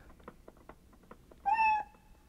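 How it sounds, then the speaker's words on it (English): A cat gives one short, clear meow near the end, rising then level, heard close over faint background tapping. "Kitty cat."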